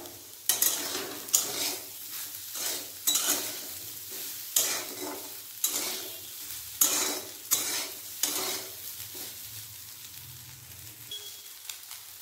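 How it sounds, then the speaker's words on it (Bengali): Soybean chunks fry in hot oil in a pan while a spoon stirs and scrapes them in regular strokes, with a soft sizzle beneath; close and fairly quiet, with no voices. "সয়াবিন ভাজা হয়ে গেছে"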